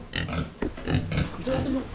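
Pigs grunt and snort in short bursts close by, with squealing tones and a voice mixed in among them.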